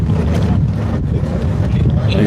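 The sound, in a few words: wind blowing on microphone outdoors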